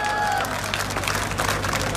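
Crowd clapping and cheering at a political rally in Rohtak, a loud dense wash of applause filling the whole stretch with no clear gaps.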